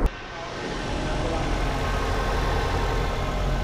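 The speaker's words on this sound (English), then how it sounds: "Engine's running." A Honda car engine with a new starter motor idles steadily after a brief start, a constant low rumble running alone.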